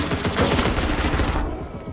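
Gunfire in a multiplayer video game, a short rapid burst of close automatic shots that cuts off abruptly.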